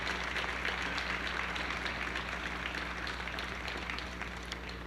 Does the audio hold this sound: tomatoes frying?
no